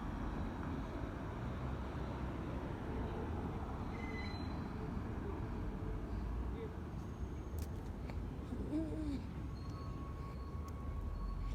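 A subway train pulls into a garbage terminal in the New York City subway, heard as a steady, continuous rumble under ongoing wind and ambient noise, with faint squeals partway through.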